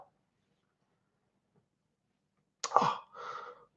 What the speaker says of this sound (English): I'm about ready to sneeze.